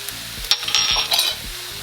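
Chicken and mushroom ravioli being tossed in a pan sizzles loudly, with a couple of sharp scraping clatters as the food is moved about.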